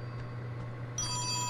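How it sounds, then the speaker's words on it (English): A phone in the game Oxenfree starts ringing partway through, a bright electronic trilling ring that cuts in suddenly over a low steady hum, with no speech. "Phone."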